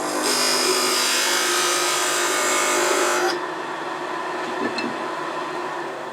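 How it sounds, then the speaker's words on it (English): A parting tool cuts into a spinning wood blank on a lathe while turning a Nordic gonk ornament, a steady loud scraping whine that stops abruptly partway, leaving the quieter hum of the running lathe. "I'm going to come down with a parting tool here, and I'm going to come down maybe 1/4 of an inch."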